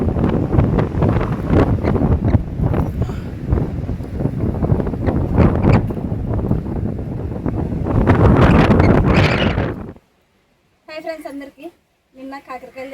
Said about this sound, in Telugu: గాలి పోతుంది